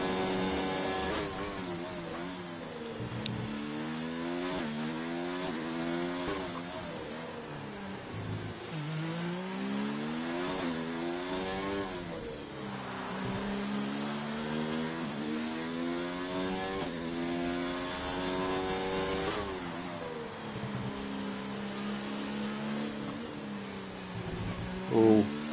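A Williams Formula 1 car engine screams through repeated upshifts and downshifts at the Singapore street circuit in F1 2019, a loud high-pitched whine sweeping up and down continuously with no talking.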